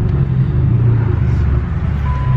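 A Dodge Challenger's 5.7 HEMI V8 engine rumbles loudly while accelerating, a deep, steady low growl, heard from inside or very near the vehicle, holding strong throughout.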